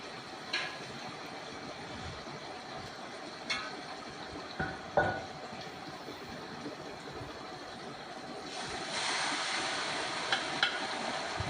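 Onions sizzle quietly in a pan for chicken karahi with a steady frying hiss, broken by a few clinks and stirring scrapes.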